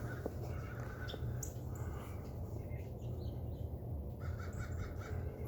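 Crows cawing outdoors on a cold morning, faint and distant, a few scattered calls over a low steady background hum.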